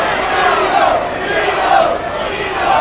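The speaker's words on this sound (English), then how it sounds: "Dino, the crowd are chanting, which is Crombie's nickname." Football crowd at a 1980 Division Three match between Grimsby Town and Millwall, chanting a player's nickname: a loud, continuous mass of voices swelling in steady waves throughout, with no commentary over it.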